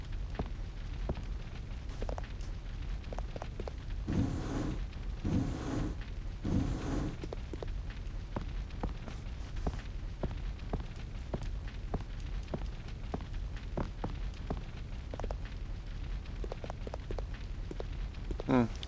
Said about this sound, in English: Sounds like it's raining outside.